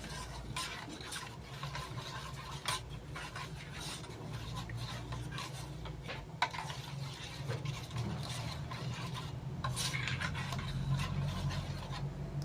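Katla fish pieces with salt and mustard oil being hand-mixed in a bowl, a steady wet rubbing and squelching that continues throughout at close range, with no talk.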